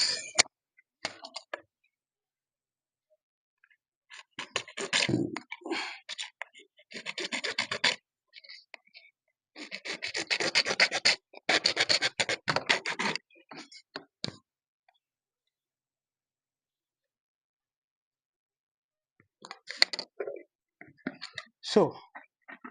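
Plastic pipe being sawn to a 17 cm length for a DIY recirculating aquaculture system, heard as several bursts of rasping strokes separated by pauses, fairly close and loud.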